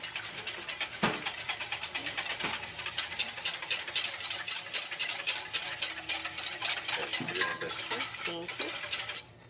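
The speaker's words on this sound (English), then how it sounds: "Whisking it in there." Lemon juice is whisked into a sauce with rapid, continuous scraping and clinking strokes close up, which pause briefly near the end and then trail off.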